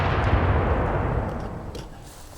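A Hotchkiss 2-pounder mountain gun fires a round, a heavy low boom whose rumbling report rolls out and decays over a couple of seconds outdoors.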